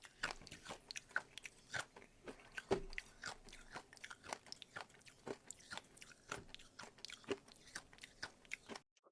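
A streamer chews loudly with his mouth wide open right into a microphone, producing close, wet, irregular smacks and crunches that repeat rapidly throughout with no talking.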